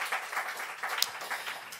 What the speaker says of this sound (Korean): 우리 서로를 위해서 수고했다고 박수 한번 쳐줍시다.